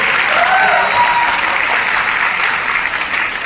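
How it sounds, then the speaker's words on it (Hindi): Loud, sustained applause from a large audience at a seminar-style gathering, dense and steady clapping that fills the whole stretch without letting up. "जोरदार तालियां, जोरदार तालियां"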